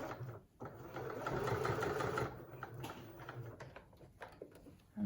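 Sewing machine stitching fabric for an advent calendar, running at a slow, steady pace in a quick burst of rapid needle chatter that eases off, close and clear with no talking.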